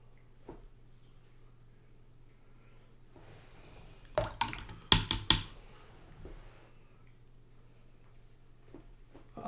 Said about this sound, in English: Bit of water, let all that run down.